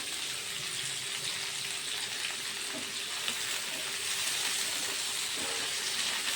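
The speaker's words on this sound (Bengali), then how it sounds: "তো আমি একটু ভেজে নেব, ভেজেই করব আমি।" Jackfruit fries in a pan for a prawn curry, giving a steady, even sizzle that holds at a moderate level for the whole stretch, close up with no talking.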